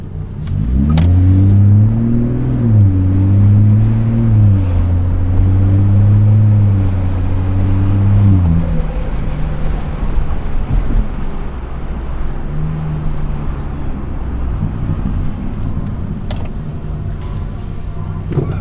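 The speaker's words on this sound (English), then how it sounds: "let you guys hear what it sounds like in comfort mode" A BMW 440i with the B58 engine and a resonator-deleted exhaust, driven in comfort mode, gives a loud deep drone that rises and falls through several revs before settling into a lower cruising rumble with some wind noise.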